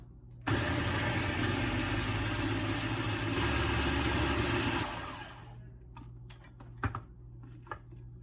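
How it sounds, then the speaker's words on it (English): A blender grinds a nut-based filling with nutritional yeast, lemon juice and salt, giving a loud, steady motor whir for about four seconds. It then winds down and leaves a few light clicks and knocks. "And then grind that until it's smooth."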